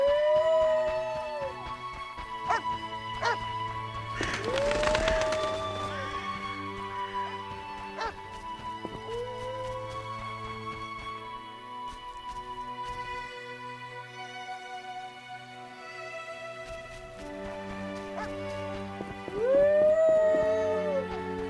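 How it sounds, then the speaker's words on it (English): A dog howls in The Witcher video game, several rising, wavering howls heard early, mid-way and again near the end over a quiet ambient game soundtrack. "That dog seems to be looking for something."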